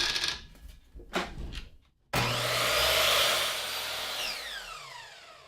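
Saw cutting wooden fence-picket side pieces to length for a bench: a few short scraping strokes, then a sudden loud, sustained cutting whine that holds steady and slowly fades near the end.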